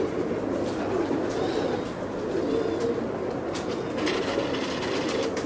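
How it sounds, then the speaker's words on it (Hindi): Kasuri breed pigeons coo softly and steadily in a pigeon loft, a low continuous murmur of several birds with faint higher chirps and rustles, no talking. "शौक करें दोस्तों ये भी कसूरी कबूतर है"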